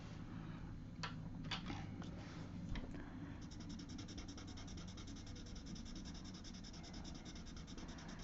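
A hard 2H graphite pencil shading across paper gives a steady, close, soft scratchy rub with a few brief sharper strokes early on, continuing alone without talk.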